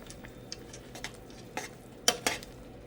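A spoon scrapes and taps against a pan while stuffing mix gets stirred into melted butter, with a handful of distinct clinks at irregular intervals over a faint background hiss.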